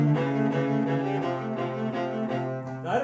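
Bowed strings play together in a short ensemble passage, a low sustained line under shifting harmonies and a rhythmic offbeat pulse.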